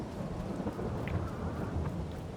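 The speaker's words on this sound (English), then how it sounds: "And this rain isn't helping either." Steady rain falling outdoors on farmland, a dense continuous hiss of drops with low rumbling underneath, no voices.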